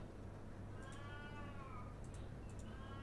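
A cat meows a few times, thin and drawn-out, over a steady low background hum.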